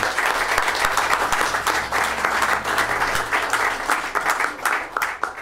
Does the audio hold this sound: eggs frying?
no